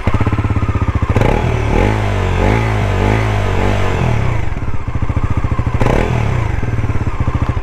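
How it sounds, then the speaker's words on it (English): Close, loud exhaust of a Bajaj Pulsar NS400Z motorcycle: a throbbing idle that climbs through a couple of quick revs and settles back, with a deep, meaty pulsing note throughout. "So let's hear the exhaust sound."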